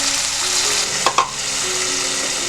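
Ginger, garlic, green chili and tomato paste frying in oil for a prawn curry, giving a loud, steady, close sizzle with two brief stirring scrapes in the middle and no voices.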